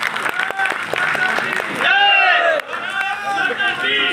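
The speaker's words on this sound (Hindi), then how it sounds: "जोरदार तालियों के साथ हमारे डिप्टी सीएम साहब के लिए जोरदार तालियों के साथ स्वागत वंदन है।" A crowd at a community introduction conference in Lucknow claps to welcome the deputy chief minister. The applause is mixed with loud, tonal voices or chanting that rise midway, and it holds steady throughout.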